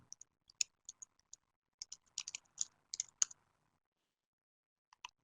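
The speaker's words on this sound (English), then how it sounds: "Type in my name." Typing on a computer keyboard to enter a name: light, scattered key clicks in short irregular runs, close and fairly quiet, with no talking.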